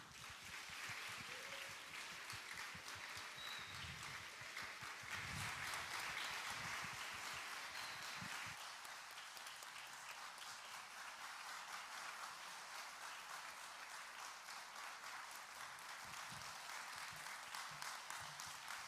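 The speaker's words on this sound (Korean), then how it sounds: "우리 두 분에게는 감사의 마음을 담아 큰 박수로 환영하도록 하겠습니다" A church congregation at a Friday prayer meeting applauds to welcome a pastor and another speaker, a steady, fairly quiet wash of many hands clapping that holds for the whole span, heard from some distance.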